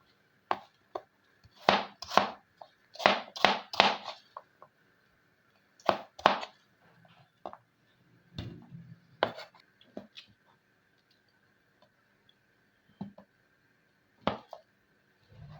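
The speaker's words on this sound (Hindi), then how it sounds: "एप्पल का छिलका उतार के लंबाई में पहले इस तरह कट लगाना है और उसके बाद ये चकोर चकोर इस तरीके से बनाते जाना है" A knife chops a peeled apple into small cubes, giving sharp, close taps in uneven clusters, some quick runs and some single strokes, with short quiet gaps between them.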